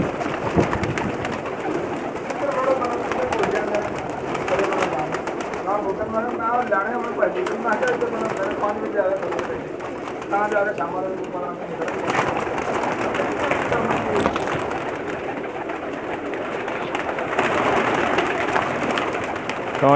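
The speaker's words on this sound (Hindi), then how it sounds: "बहुत ज़्यादा तादाद में कबूतर हैं जी" Many Teddy pigeons cooing together in a loft in Jeddah, Saudi Arabia, a dense, continuous chorus of overlapping coos with steady background noise, fairly close and loud throughout.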